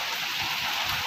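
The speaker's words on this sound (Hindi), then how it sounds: "दोस्तों वीआईपी बारिश चल रही है" Rain falls steadily, a dense broadband hiss close by with soft patters underneath that continue without a break.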